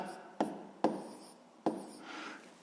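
Pen writing out a sixth-grade maths division solution on paper, with three sharp taps of the pen among soft scratchy strokes, close and quiet, with faint talking underneath.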